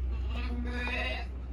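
Livestock, likely sheep, bleat faintly at a village house, with a drawn-out call rising over a steady low hum.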